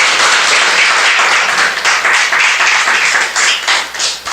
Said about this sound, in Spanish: Dele un aplauso a la palabra de Dios.